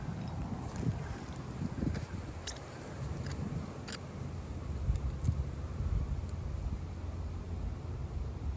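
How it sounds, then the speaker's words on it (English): Steady broadband road noise beside a road in Western Australia, with a low rumble and wind, passing vehicles swelling and fading at a moderate distance, no talking. "Pretty noisy right here next to the road."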